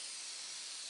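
Aerosol spray can laying down a cheap yellow primer coat, heard as a steady, close, loud hiss holding evenly throughout with no pauses.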